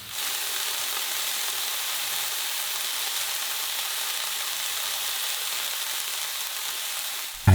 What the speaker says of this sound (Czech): Přidám kmín a orestuji i z druhé strany.